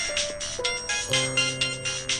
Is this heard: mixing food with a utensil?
no